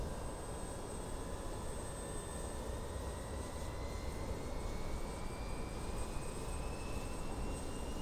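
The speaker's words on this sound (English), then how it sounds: "Starting engine 4." Engine 4 of a BAE 146 airliner spools up in a flight simulator game, a steady jet whine with slowly rising tones over a constant broadband rumble, loud and unbroken.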